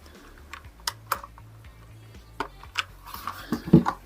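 Keycaps are pressed back onto a budget mechanical wireless keyboard, giving a string of sharp, separate plastic clicks and taps at an uneven pace, close by with no talking.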